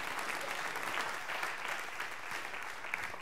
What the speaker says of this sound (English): Clap your hands and say amen,